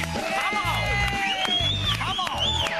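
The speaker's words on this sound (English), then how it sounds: "They clapped that whole time." A studio audience at the taping of a 2007 TV tech show claps and cheers steadily, a loud continuous crowd sound with shouts and whoops running under a voice.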